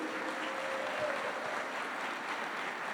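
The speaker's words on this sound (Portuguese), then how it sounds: "E aplauda ao Senhor por isso." A church congregation applauds the Lord, a dense, steady wash of many hands clapping at moderate distance that holds evenly throughout with no speech over it.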